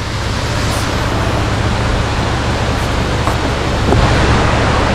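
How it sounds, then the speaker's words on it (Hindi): A waterfall in Sri Lanka gives a steady, loud broadband roar of rushing water that holds unbroken throughout, with no voices over it. "एक बढ़िया सा झरना दिख गया था"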